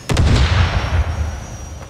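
A Stinger missile launches in Call of Duty Modern Warfare Remastered with a sharp close crack, then a heavy rumbling boom that fades away over about two seconds.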